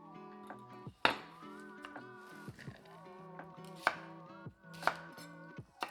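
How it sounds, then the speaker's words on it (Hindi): Okra and onion are chopped into chunky pieces on a board, with a few sharp, distinct knife strikes rising over a background of soft, sustained melodic music; no one speaks. "मैं भिंडी और प्याज चंकी काट रही हूँ"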